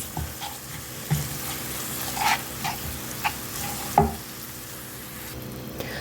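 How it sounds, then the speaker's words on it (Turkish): A spoon stirs a pot of Turkish meyhane-style rice pilaf just after water has gone in. A steady bubbling, sizzling wash sits under occasional clinks and scrapes against the pot, close up and without talk. "Suyunu koyduktan sonra karıştırıyoruz."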